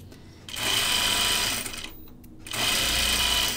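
A serger overlocks the edge of a shirt dress in two loud, steady whirring runs, separated by short pauses.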